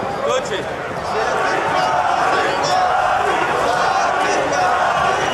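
A big crowd at a boxing event in Las Vegas roars steadily, a continuous loud wash of voices and cheers with some shouting, spread evenly across the whole stretch.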